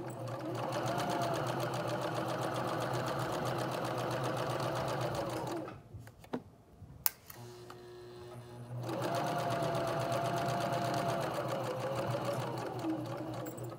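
A sewing machine runs steadily while stitching a fabric pocket, a continuous close mechanical whir that stops for a few seconds at the pivot, with small clicks, then resumes at the same even pace.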